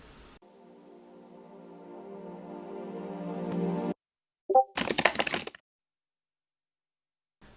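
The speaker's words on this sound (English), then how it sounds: "it was just a note that I played on one of these synths pads over here, and I just reversed it" Reversed synth pad note swelling gradually louder over a few seconds before cutting off abruptly, followed by a brief crackling burst and a short noisy hit, then silence.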